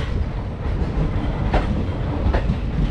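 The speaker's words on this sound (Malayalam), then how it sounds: "ട്രെയിനിങ്ങനെ വളഞ്ഞു പോയിക്കൊണ്ടിരിക്കുകയാണ് കേട്ടോ" Matsyagandha Express running along curving track, a dense continuous rumble of wheels and carriages from on board with a couple of sharp rail clacks breaking through the roar.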